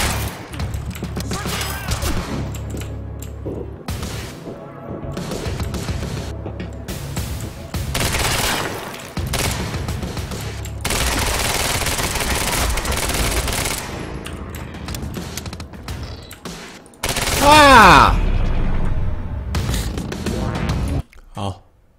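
Repeated bursts of automatic weapon fire and heavy impacts ring out in the shooter game Quantum Break, loud and recurring over a long stretch, with people talking in between.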